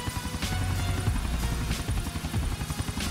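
Helicopter rotor in GTA San Andreas, a loud rhythmic chopping of blade beats over a deep engine drone, repeating steadily without speech.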